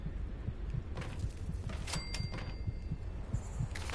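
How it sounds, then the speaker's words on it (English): A heartbeat thumps in Fallout 76, soft low pulses repeating at a steady rhythm under faint background hum and scattered game noises, with no talking. "Why am I getting that heartbeat sound?"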